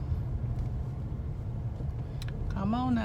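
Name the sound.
car driving on a road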